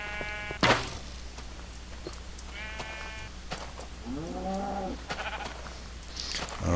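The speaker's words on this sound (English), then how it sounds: "Now, let's get after some of these sheep." Sheep bleat in the video game Minecraft with the TFC mod, several short wavering calls spread across the stretch, moderately loud over a steady game background hum, with no talking.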